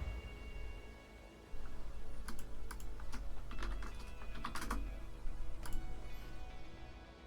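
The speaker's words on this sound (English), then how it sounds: "For those of you wondering why I'm typing in chat" Typing on a computer keyboard during an online card-game session: a run of crisp, irregular key clicks in quick bursts over a steady low background hum, close by and without speech.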